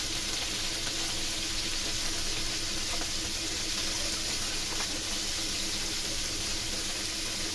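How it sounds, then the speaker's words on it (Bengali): Chicken shashlik skewers frying in hot oil in a pan, a steady dense sizzle and crackle running evenly throughout without a break, with no voices. "তেল গরম হলে শাসলিকগুলো একটা একটা করে তেলের মধ্যে সুন্দর করে দিয়ে দেবো ভাজা"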